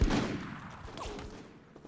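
Gunfire in the video game Full Spectrum Warrior: Ten Hammers, a dense rattle of shots that opens loud and fades into a sparser, more distant crackle under a low battle rumble.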